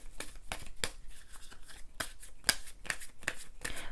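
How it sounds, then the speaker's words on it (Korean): Tarot cards are drawn and shuffled close up, a quiet series of crisp papery swishes and flicks in an irregular rhythm. "제가 추가 카드 뽑은 다음에 본격적인 리딩 좀 해보도록 할게요"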